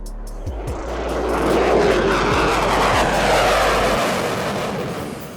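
An F-22 fighter jet's engine roars loudly as a broad, swelling jet wash that builds to a peak and then slowly fades, with no voices.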